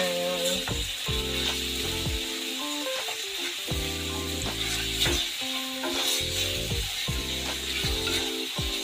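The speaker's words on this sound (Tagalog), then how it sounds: "Nagluluto pa ako ng ampalaya, igigisa ko po." Bitter gourd (ampalaya) sautéing in a pan, a continuous sizzle with stirring scrapes that runs under strong, repeating tonal music throughout.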